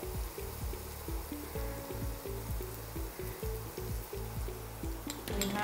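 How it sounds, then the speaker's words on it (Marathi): Onion and garlic sauté in a pan with a soft, steady sizzle, faint and continuous under low thumping background noise. "आता आपण हा कांदा आला लसूण परतून घेतो आहोत"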